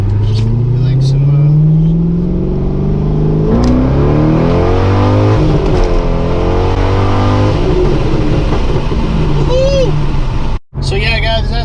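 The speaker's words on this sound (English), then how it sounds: "we'll give you guys a little rip of the Corvette" Corvette engine revving and roaring loudly up close, rising and falling through several pulls, with a brief cutout near the end and a voice speaking over it.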